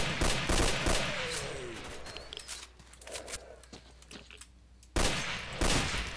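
Video game gunfire in the Misery mod, with rapid overlapping shots near the start, scattered sporadic reports through the middle and another loud burst near the end.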